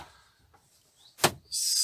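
A plastic blind panel on a motorhome door is lowered, giving a short sharp plastic knock or snap after a faint slide, then a steady hiss; no speech.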